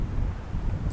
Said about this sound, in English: It's a little bit windy, so I hope you guys can hear me alright.